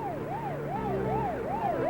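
Police car siren on an emergency run, from 1973: a rapid rising-and-falling wail repeating about every half second, steady and clear with no voices.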